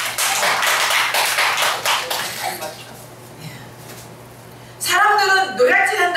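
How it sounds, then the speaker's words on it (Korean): A church congregation bursts into brisk clapping during a sermon, loud and dense at first, then thinning out before a voice resumes speaking over the fading hall. "박수 한번 쳐주세요"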